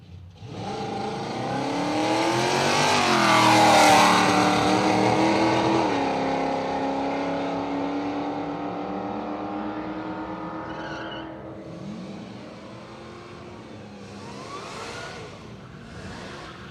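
A Mustang drag car launches at Willowbank Raceway, its engine swelling to a loud, climbing roar that peaks after a few seconds, then fades into the distance as it tears down the strip.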